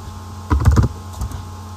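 Quick burst of typing on a computer keyboard during spreadsheet data entry in Excel, a cluster of close key clicks followed by a few lighter taps, with no talking.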